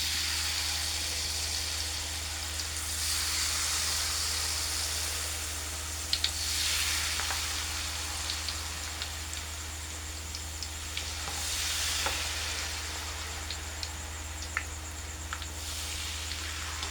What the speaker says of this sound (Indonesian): udah siap kita goreng peyeknya.